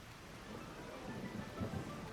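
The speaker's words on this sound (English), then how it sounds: "Oh, it's raining." Steady rain hiss with a low storm rumble in Trails Beyond the Horizon, a soft continuous wash that swells slightly near the end, with no talking.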